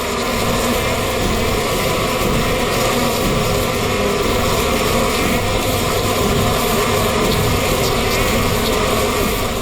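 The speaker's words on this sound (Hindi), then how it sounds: "किसी ने मधुमक्खी को छेड़ दिया क्या?" A dense, loud, continuous buzz of many bees swarming close by, droning steadily without pause throughout.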